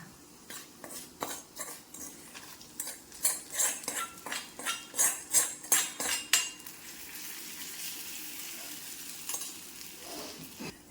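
A spoon scrapes and clinks against a pan while brinjal curry with curd is stirred, a run of rhythmic metallic strokes under a faint sizzle, fading to quieter scraping.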